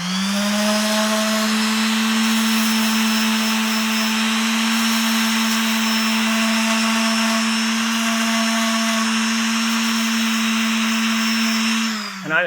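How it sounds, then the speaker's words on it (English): A random orbit sander whines steadily and loudly against the sides of a wooden two-piece bow, a sustained, even buzz with a stable pitch that runs uninterrupted for many seconds before cutting off at the end. "the next step is we want to clean up these sides real good with the random orbit"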